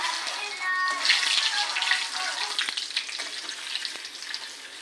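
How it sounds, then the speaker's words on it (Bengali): Bay leaves sizzling and crackling in hot oil in a pan for a Bengali chingri kachu dish, a loud, steady fry close by. "প্রথমে তেজপাতা দিলাম"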